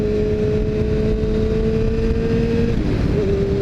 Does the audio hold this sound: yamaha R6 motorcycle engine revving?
yes